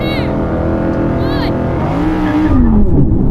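Audi performance cars, among them an R8, RS e-tron GT, RS3, RS6, RSQ8 and RS5, launching together in a drag race: a loud, close engine roar with rising revs and a heavy surge near the end, with talk over it.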